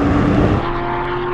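Porsche 911 GT3 and Turbo S launching side by side in a drag race, a loud, close engine roar with a steady high tone that drops slightly as the cars pull away, without speech.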